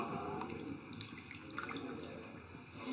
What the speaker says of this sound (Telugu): మనకి ఎంత వాటర్ గ్రేవీ కావాలో వాటర్ పోసుకోవాలి